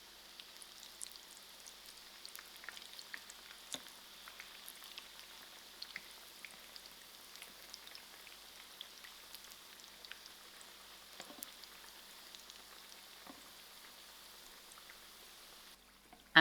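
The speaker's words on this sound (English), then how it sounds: "The dough will expand as frying and we will keep turning till golden brown." Koeksister dough frying in hot oil for a South African koeksister batch, a steady faint crackle and fizz of small popping bubbles running continuously with no voices.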